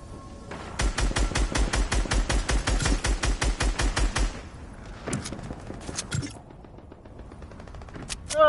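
Rapid automatic gunfire from a Fortnite match: a steady burst of evenly spaced shots lasting several seconds, loud and close, followed by a few scattered single shots and game effects.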